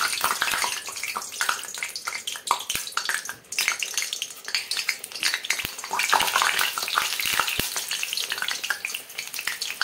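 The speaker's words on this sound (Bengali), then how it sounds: "দেখুন আমি ধীরে ধীরে কেটে নিচ্ছি আর তেলের মধ্যে পড়ছে।" Raw banana slices drop one after another into hot oil over a low flame, with a dense continuous bubbling sizzle up close and small taps of slices landing throughout, no talking.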